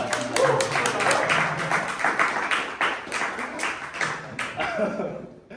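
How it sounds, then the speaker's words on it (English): Audience clapping at a blockchain hackathon kickoff event: a sustained wash of many hands applauding together, moderately loud, with a voice talking underneath before it tapers off. "Everybody clap."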